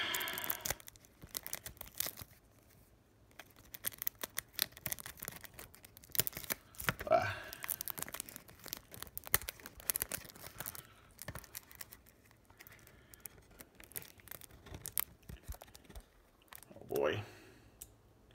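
Plastic wrap comes off a music CD with crinkling, tearing and clicking, quiet and close, in bursts with pauses between them.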